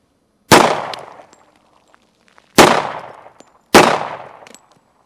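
Three loud, sharp handgun shots at a shooting range, spaced about a second and a half apart, each a sudden crack followed by a short ringing decay, with no talking.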